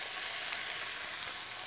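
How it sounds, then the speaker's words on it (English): Onions sizzle steadily in hot olive oil in a cast iron skillet, a dense, even frying hiss that holds close and constant throughout with no talking. "Love the sound of that sizzle."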